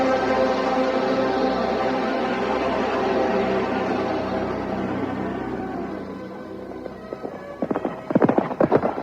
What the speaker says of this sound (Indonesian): Cakradara dan Kuda Merta melarikan kudanya meninggalkan tepian sungai Pedanten